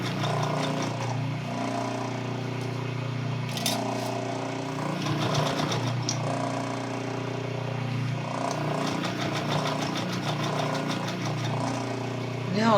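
A domestic sewing machine stitches back over a dart seam at a steady, continuous whirring pace, with brief pauses and restarts in the mechanical hum.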